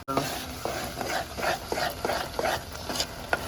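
Spices being stirred into eggplant bharta, a dish of mashed eggplant, in a sizzling pan: a quick, regular run of scraping, mixing strokes at close range over a low frying hiss.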